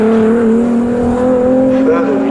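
Race cars from the Classic VW Cup and Honda VTEC Challenge at Snetterton, including a Honda Civic, drone loudly and steadily with a sustained engine tone that shifts slightly in pitch, under a commentator's voice.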